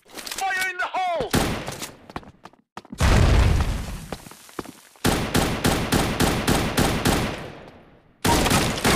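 Gunfire and a grenade blast in the Bullet Angel FPS video game: a loud boom rolls out, then rapid bursts of shots crack in quick sequence, with a voice shouting at the start.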